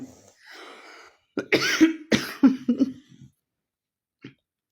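A woman coughs several times in quick, harsh bursts while cooking leafy greens, with soft breathing before and a single faint cough at the end in a quiet kitchen.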